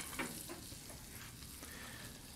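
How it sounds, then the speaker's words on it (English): Onions frying on a Camp Chef FTG600 griddle, a faint, steady crackling sizzle with a couple of light scrapes near the start, close by and with no one speaking. "I'm going to go ahead and get these onions in there and get started on them and let them cook down"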